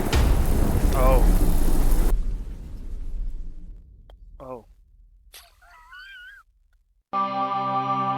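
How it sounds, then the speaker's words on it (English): A cat meows a few times in the video game The Excavation of Hob's Barrow, amid shifting game sounds: a loud rumbling burst at first, then quieter effects, and a sudden tonal chime near the end. "Kitty cat."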